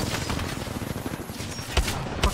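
A video game shooter fires a fast, dense volley of gunshots, a rattling burst with a couple of heavier thumps toward the end.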